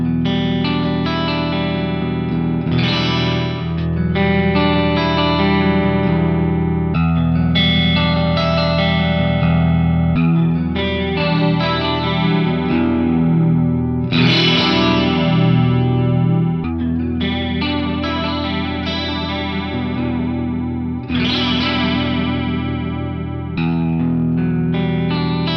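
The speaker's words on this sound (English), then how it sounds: "It's a chorus without the direct signal." Electric guitar played through a chorus effect with the direct signal removed, so the distorted chords and notes waver up and down in pitch like vibrato. It plays loud and continuous with no talk.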